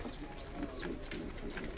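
Pigeons coo softly in a warm-weather loft, a short, low, throaty call rising out of a steady background hiss, with a thin high whistle-like tone above it.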